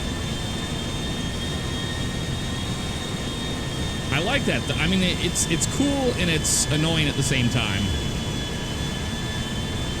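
An Airbus A350 airliner in GTA 5 gives a steady jet engine whine and drone with a faint high tone throughout, while someone talks over it in the middle.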